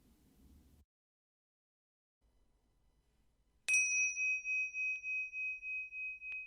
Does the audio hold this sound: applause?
no